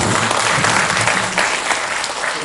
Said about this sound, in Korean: 두 분 발표자 논평자 선생님께 큰 박수 부탁드리겠습니다